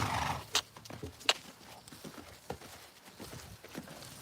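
A mare cantering under saddle, her hoofbeats landing as uneven, moderately close thuds. A brief whinny or snort comes early, and there is faint background noise.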